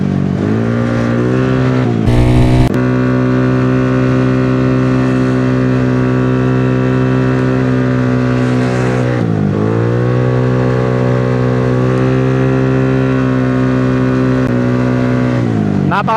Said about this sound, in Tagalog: Napakakalmado ng RPM na itong motor talaga.